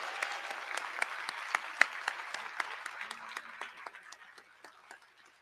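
Audience clapping for ten honorees at a university Charter Day convocation, a brief burst of applause from a moderate-sized crowd that thins and fades over a few seconds.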